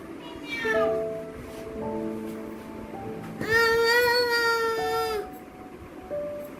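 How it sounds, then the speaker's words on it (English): A cat meows several times, one drawn-out plaintive meow standing out, with a faint voice in the background. "C for cat, cat sound like meow"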